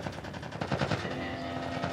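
Soldiers open fire in The Last of Us Part I, a dense burst of rapid automatic gunfire cracking back to back for about two seconds over a low game-music drone.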